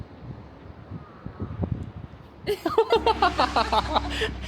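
A Tesla Model 3 plays its novelty fart sound effect, triggered from the phone app, as a short burst of buzzy, sputtering tones with rapid pulses, following a stretch of quiet outdoor wind and rustling.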